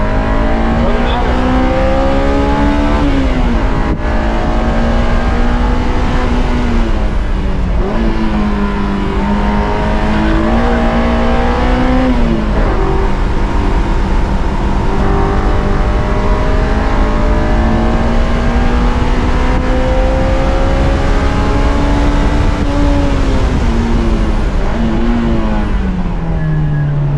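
A 2001 Honda S2000 laps a race track, its engine loud and continuous throughout, with rising and falling revs through gear changes and occasional tire noise, heard from inside the car.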